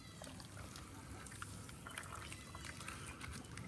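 Chicken manure fertilizer tea is poured into water and keeps trickling and splashing at close range over a steady low background, with small liquid spatters and no talk.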